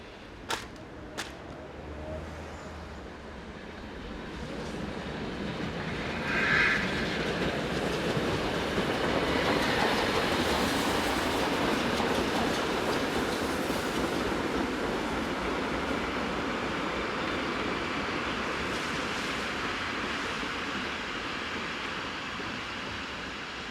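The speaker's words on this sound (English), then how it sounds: "528134 is seen arriving with its train from Germersheim as the day's steam action drew to a close." German steam locomotive 52 8134 arrives with its train from Germersheim, giving a broad rolling rumble with rail clatter that swells as it draws near, after a few sharp clanks at the start.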